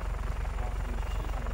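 An Urga Mstitel helicopter flies in the game Just Cause 3, its rotor giving a loud, steady rhythmic thumping with a continuous engine whine throughout.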